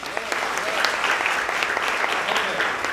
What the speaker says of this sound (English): So please also applaud him.